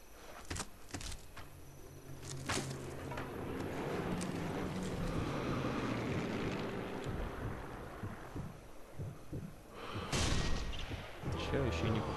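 Gunfire in the video game Sniper Elite 3 aimed at the player, scattered shots and booms over a windy outdoor rumble, with a louder burst near the end.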